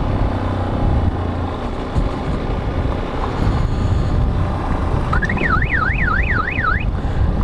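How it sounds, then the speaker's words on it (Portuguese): A wailing electronic police siren on a Toyota Hilux pickup sweeps rapidly up and down in a steady yodel, starting partway through over loud, constant engine and road rumble. "Eu vou buzinando aqui a sirene da polícia."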